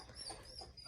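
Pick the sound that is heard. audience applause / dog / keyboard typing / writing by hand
dog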